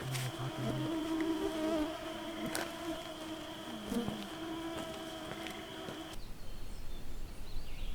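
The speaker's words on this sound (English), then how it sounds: "you can probably hear the bugs all around me" Insects buzz around a canoe campsite in the Canadian wilderness, a continuous close droning hum with individual bugs flying past, steady throughout before fading near the end.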